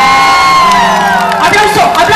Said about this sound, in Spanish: ¡Aplauso, aplauso!